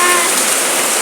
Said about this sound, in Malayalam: ഇപ്പൊ മോള് മഴ പെയ്യുന്ന കാണുന്നുണ്ടാ?